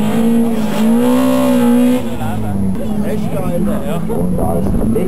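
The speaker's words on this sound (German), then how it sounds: "Christian unterwegs und beschleunigt." A Fiat X19 race car accelerating through a slalom course, its engine note climbing loudly alongside tire noise while an announcer talks over it.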